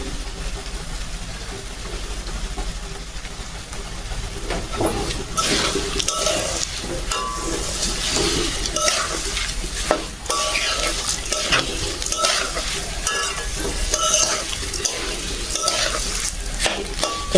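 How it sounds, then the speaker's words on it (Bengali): Lentils are stirred and dry-fried in a pan for khichuri, a close, loud, continuous sizzle with rhythmic scraping strokes of a utensil against the metal growing busier partway through. "ডাইলিয়া মোর লাল লাল হয়ে গেছে, ভাজা হয়ে গেছে।"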